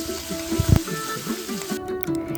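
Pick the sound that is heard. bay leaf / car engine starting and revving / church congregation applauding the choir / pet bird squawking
bay leaf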